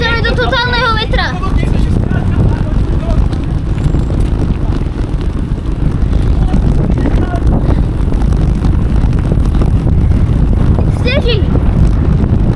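Strong wind roars across the microphone during a big storm, a loud, continuous low rumble with gusting buffets, and brief voices surface near the start and again near the end.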